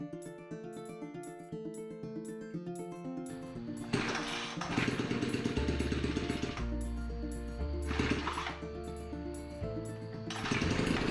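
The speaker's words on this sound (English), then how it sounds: "Now I can prime the engine, set the carburetor to full choke, attempt to pull start it 4 times." A Ryobi 4-cycle weed wacker engine, primed and on full choke, is pull started several times; bursts of rough mechanical chugging rise and fall in repeated attempts, heard up close.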